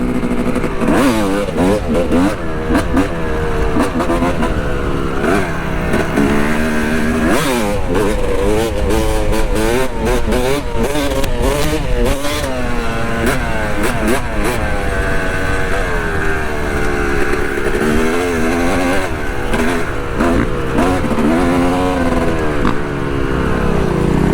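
A small Honda Z50 or XR dirt bike rides a kids' motocross track with corners. The buzzy engine revs up and down continuously and close by, with voices faintly mixed in.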